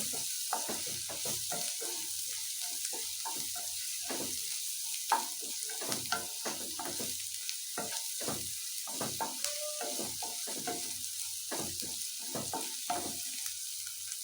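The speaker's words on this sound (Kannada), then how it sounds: "ಸ್ವಲ್ಪ ಹೊಂಬಣ್ಣ ಬರಲಿ ಅದು ಫ್ರೈ ಬಂದರೆ ಸಾಕು ತುಂಬ ಚೆನ್ನಾಗುತ್ತೆ ಇದು" Ingredients for paneer fried rice fry in a pan with a steady bright sizzle. Scraping stirring noises come and go underneath, close and moderately loud.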